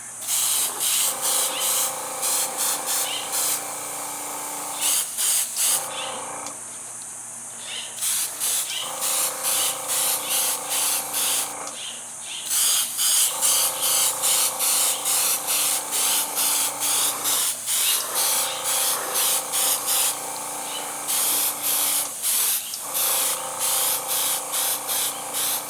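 An aerosol can sprays paint onto a Jo-Han 1970 AMC Javelin Trans Am model car body in repeated short, loud hissing bursts, each a few seconds long, separated by brief pauses.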